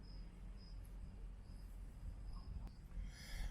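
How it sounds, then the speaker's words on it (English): Cicadas and crickets chirp faintly at night in a quiet outdoor spot, a thin high insect trill repeating in short bursts over low background rumble, with no voices. "You hear some cicadas and crickets,"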